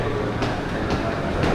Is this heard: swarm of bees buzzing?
no